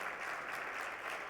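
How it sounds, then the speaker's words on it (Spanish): Steady audience applause at a cybersecurity conference panel in Spain, a dense, even wash of many hands clapping throughout the short stretch, with no voices on top. "Fuerte aplauso también."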